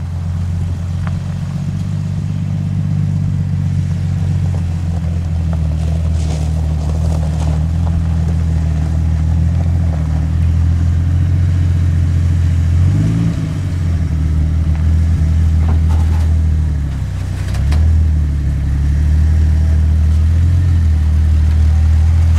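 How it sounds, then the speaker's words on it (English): A Jeep being driven onto a torsion-axle trailer hitched behind a GMC Yukon, with a loud, steady low engine rumble close by and a couple of brief surges partway through. "I'm gonna load the Jeep on here, we'll try it again."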